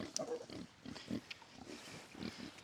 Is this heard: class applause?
no